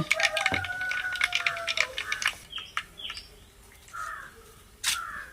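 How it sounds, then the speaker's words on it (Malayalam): Mustard seeds crackle and pop in hot oil in quick, irregular bursts, then settle into occasional scattered pops with faint chirping in the background, during village cooking of a Kerala-style fish curry. "കടുക് പൊട്ടിയിട്ടുണ്ട്."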